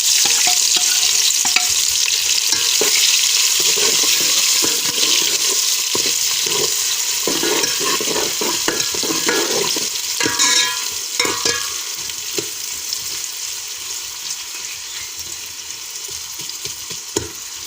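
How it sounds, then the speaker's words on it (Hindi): Onions hit hot oil in a pot for an aloo gosht dish, giving a loud, continuous close sizzle and frying hiss with scraping stir strokes that eases slightly toward the end. "हमने हमेशा की तरह यहाँ तेल गर्म करने के लिए रखा है। अब इस पर हम प्याज ऐड करेंगे।"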